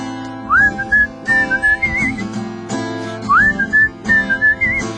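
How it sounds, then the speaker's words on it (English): A bright whistled melody over a full band backing, two similar phrases with short sliding notes, loud and up front. "whistle solo"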